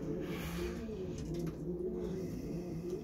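Racing pigeons coo softly in a loft, a low repeated throaty murmur from several birds, steady and fairly close with no talking.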